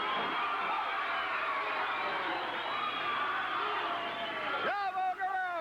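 A wrestling arena crowd roars and cheers in a dense, continuous wall of noise, with whoops and shouts swelling near the end and a commentator talking over it.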